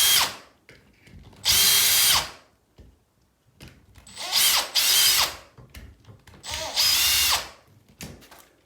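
Power drill backing screws out of a wall plate in a drywall repair, three separate whirring bursts of about a second each with quiet pauses between, close and loud, ratcheting clicks at the ends.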